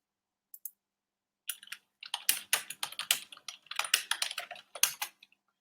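Quick, irregular clicking of keys on a computer keyboard, a few isolated taps and then bursts of close-up typing, no voices.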